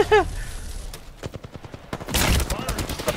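Rapid bursts of gunfire in an Apex Legends-style shooter, a quick volley of sharp shots followed by a denser, louder stretch of firing and impacts, with brief voices mixed in.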